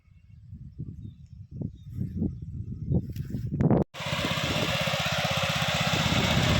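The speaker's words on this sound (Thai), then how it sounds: "นี่นะครับสูบน้ำออกจากขอบถนนนะครับ" Engine-driven pump draining water from a roadside at a housing project site: a low mid-pitched engine revs unevenly, cuts out briefly, then runs as a steady loud drone with continuous splashing, no voices.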